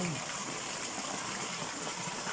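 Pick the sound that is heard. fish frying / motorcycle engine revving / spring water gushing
spring water gushing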